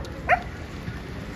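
A single short dog bark sounds once, quick and fairly close, over faint background noise.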